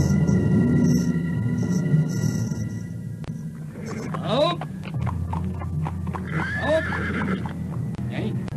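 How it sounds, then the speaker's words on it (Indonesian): Horses pulling a horse-drawn cart in an audio drama, loud neighs and whinnies over a steady rumbling bed with hoof clatter, fairly close, several calls through the second half. "Gerobak kereta kuda itu terus melaju."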